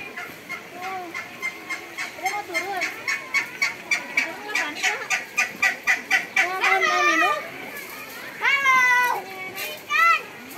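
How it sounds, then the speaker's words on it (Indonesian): Ducks at a zoo quacking in a quick rhythmic run of calls, close and loud, while children and adults chatter nearby. "Bebek deh."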